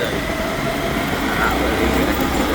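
A train at Gandhigram railway station, a loud continuous rumble of rolling carriages with a dense rattling clatter close by and no clear speech over it.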